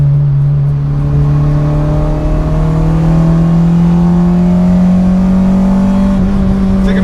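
Acura RSX accelerating hard in the lower gears, its loud steady engine note climbing in pitch throughout, with no voices over it; any tire slip is lost under the engine.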